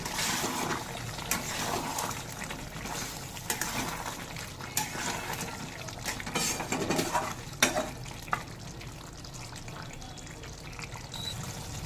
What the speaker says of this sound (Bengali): মাটনটা আবার একটু নেড়ে নেব